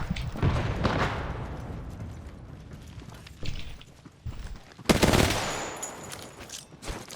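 Gunfire in the video game Apex Legends during a squad match: several bursts of rapid shots, with a loud cluster near the start and a sharper, louder volley near the end, and quieter chatter between them.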